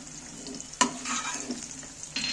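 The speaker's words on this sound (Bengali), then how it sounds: "এইবার আমি গ্যাসের ফ্লেম অফ করে দিয়ে আমি পেঁয়াজগুলো ছেঁকে তুলে নিচ্ছি" Browned fried onions are lifted from hot oil with a strainer after the gas flame is switched off, giving a soft sizzle with a sharp metallic scrape and clatter near the start and another near the end.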